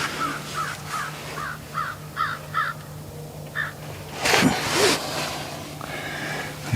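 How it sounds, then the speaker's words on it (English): Several crows caw in a quick series of harsh calls, fairly close, followed by a louder rustling burst and a low steady hum underneath. "We got some crows out here causing a ruckus."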